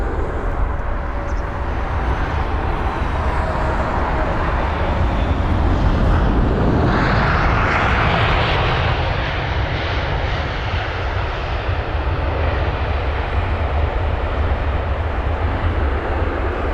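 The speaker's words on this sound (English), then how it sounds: "And so the 737 MAX 8 is in sight. Here it is, 4 years of age for its Royal Air Maroc 737 MAX 8." Royal Air Maroc Boeing 737 MAX 8 landing on runway 27 right at London Heathrow, a loud continuous jet engine roar that swells as the plane passes and then fades, with wind noise and no talking.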